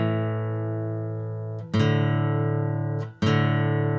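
Two sustained pure tones sounding together as a perfect fifth, loud and steady, slowly fading before being restruck twice with sharp fresh attacks.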